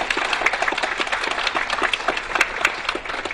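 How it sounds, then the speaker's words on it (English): A studio audience at a Texas quiz show claps steadily for the competing quiz teams, a dense, even patter of many hands throughout with no voices over it. "Let's give our teams a big round of applause."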